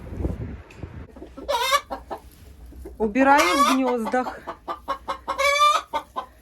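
Roosters and hens in a chicken coop give several loud clucks and crowing-like calls in bursts, with a person speaking briefly among them.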